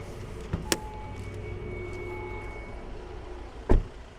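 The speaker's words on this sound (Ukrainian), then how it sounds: "Зараз відкриємо капот, подивимось на наш автомобіль." Releasing and raising the bonnet of a 2017 Audi A4 B9 2.0 TDI produces a sharp click early on and a louder latch pop and thunk near the end over a steady low mechanical hum.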